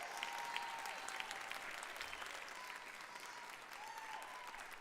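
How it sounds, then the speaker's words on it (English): Loud applause from a large audience at the 7th International VR Awards live event, dense continuous clapping with a few scattered whoops, sustained throughout. "I want to hear you guys clap louder than you've ever clapped before."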